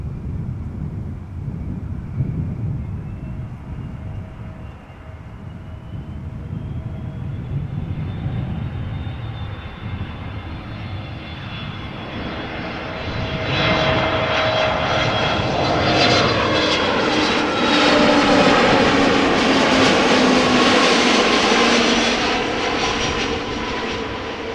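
A Neo jet airliner passes at Amsterdam Schiphol Airport, its engine roar swelling from a distant whine to a loud, close rush and then holding, with some wind noise on the microphone.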